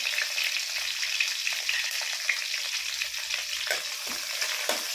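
Curry leaves and green chillies with a piece of cinnamon frying in hot oil on a low flame, a continuous close crackling sizzle with soft stirring scrapes and no voices.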